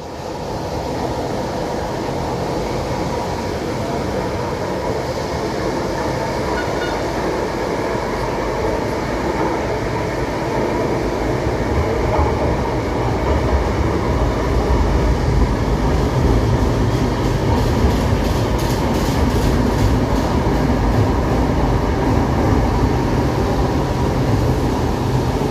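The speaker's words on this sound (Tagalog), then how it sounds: "So may bago na naman pong parating na tren." An LRT-1 light rail train pulls into Aquino Avenue station on the Cavite extension, a loud sustained rumble and rail roar building steadily, with a brief high squeal near the end and no talk.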